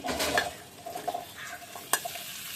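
Potatoes and onions fry in hot oil in a home kitchen pan, giving a steady low sizzle broken by the scrape and clatter of stirring, fairly close and moderately quiet, with no talking.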